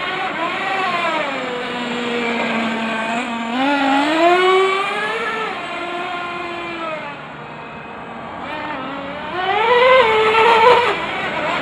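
An RC truck's electric motor whines as it drives, its pitch rising and falling with bursts of acceleration, loud and close throughout.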